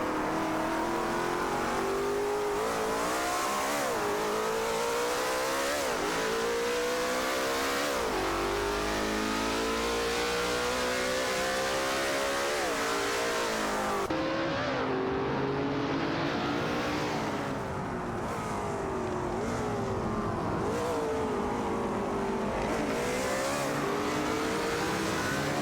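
Engines of racing cars in an AI-controlled racing game scream and rev in repeated rising sweeps, shifting gears as the cars battle and pass one another; loud and sustained throughout, briefly dropping in intensity midway, with no voices.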